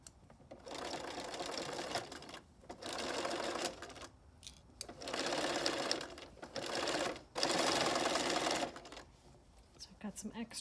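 A sewing machine stitches around the corner of a ruffled farmhouse-style pillow with a zipper, running in several steady bursts of whirring separated by short pauses, close and loud.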